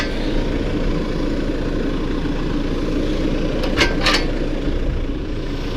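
A New Holland T5.120 tractor engine idles steadily with a low, even rumble throughout, joined near the end by two brief higher-pitched bursts.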